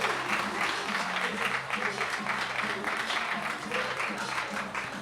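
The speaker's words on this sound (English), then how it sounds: "All right, so keep clapping." An audience claps after a spoken-word poetry performance at a Philadelphia venue, a steady patter of applause with some voices talking over it.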